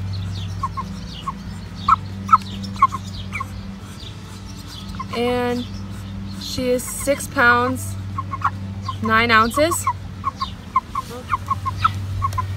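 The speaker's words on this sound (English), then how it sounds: "One of the birds from my pairs right now, it's a hen." A broiler chicken hen clucks in short, scattered bursts close to the microphone while a person talks over a steady low hum.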